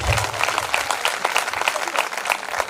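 A church congregation claps hands loudly together in steady, rapid applause during a parish gathering, the dense clapping filling the whole moment without any voices.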